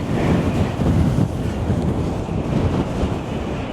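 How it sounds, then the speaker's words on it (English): Gale-force wind lashing the Blackpool seafront at stormy high tide, a dense, loud rumbling roar that blasts the microphone with waves surging beneath, steady throughout and free of speech. "The wind is howling like a banshee"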